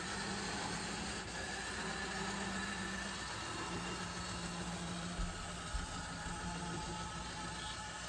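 A vintage Hobbyline HO scale model train runs around a track loop, a steady low motor hum and rail rumble heard nearby without talk.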